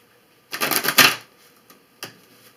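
Tarot cards from a deck cut and shuffled by hand, a close burst of crisp riffling papery flicks lasting under a second, then a single short tap of cards set down on a surface.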